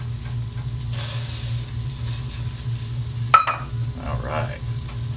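Lentils tossed into a hot pan give a fizzing sizzle and a sharp clatter, over a low steady hum, with a stirring scrape afterward.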